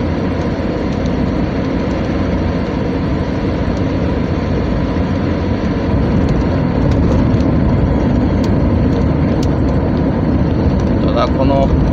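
A Chevrolet Astro with a freshly replaced intake manifold gasket and a squealing belt drives on a test run, its engine a steady loud drone throughout, with talking over it.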